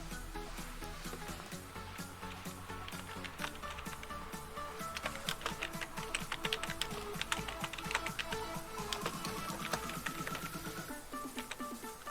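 Steady, continuous typing on a computer keyboard, a dense run of fast, close key clicks lasting the whole stretch with no talk over it.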